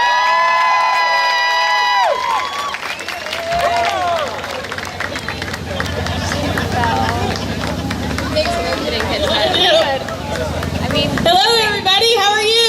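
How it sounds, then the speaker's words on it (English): Crowd at an outdoor community rally for National Coming Out Day claps and cheers, with loud whoops and shouts over sustained applause, voices and whistles rising and falling near and far throughout. "I want to give a big, big round of applause for our organizer for tonight, Terry Ray Nunley."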